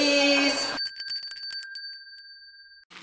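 A bright bicycle-style bell rings once and its shimmering tone decays slowly, following a brief burst of other sound, with a faint sound returning at the very end.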